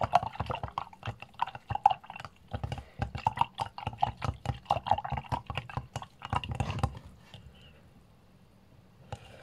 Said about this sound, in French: On va en profiter que j'ai ma paille pour touiller.